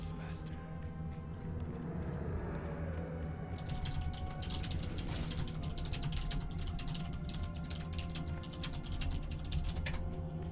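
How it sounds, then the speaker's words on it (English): Computer keyboard typing clatters steadily through a Warcraft 3 match, dense clicky keystrokes over a constant low game-music hum, with a brighter burst of rapid presses around the middle. "Typed out what I needed to type."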